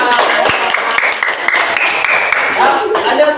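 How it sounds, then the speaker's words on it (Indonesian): Grade 6 pupils clap their hands in a maths classroom, a steady scatter of sharp claps spread over a few seconds with children's voices chattering beneath. "sudah tepuk tangan"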